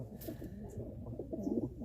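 Pigeons coo in a loft, a breeding pair among them raising chicks, their soft, throaty rolling calls repeating closely and steadily with no voices over them.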